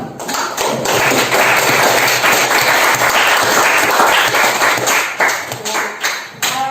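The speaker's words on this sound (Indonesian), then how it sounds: "sekali lagi kita tepuk semuanya dulu." A group claps together in steady, dense applause, loud and close, lasting several seconds before tapering off.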